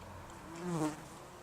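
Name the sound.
wasps buzzing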